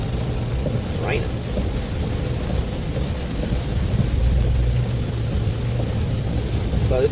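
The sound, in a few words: rain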